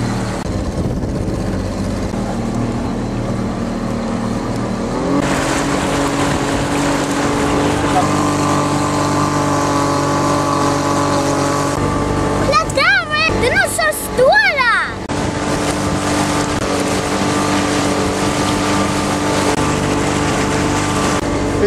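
A motorboat engine drones steadily up close on a small boat ride, its humming tones rising as the throttle opens, with wind and water rush throughout and a brief burst of chatter or whistling midway.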